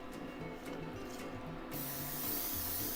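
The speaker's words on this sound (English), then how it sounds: "We got my handy dandy canola oil spray." A can of canola oil cooking spray hisses in one steady, close burst over a quiet kitchen background, coming in abruptly partway through and continuing to the end.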